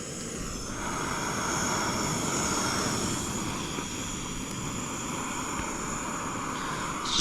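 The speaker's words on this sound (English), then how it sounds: "the jet boil is doing its job." A Jetboil camping stove burns steadily to boil water outdoors in the Australian outback, giving a constant roaring hiss that holds at an even level through the whole stretch with no voices.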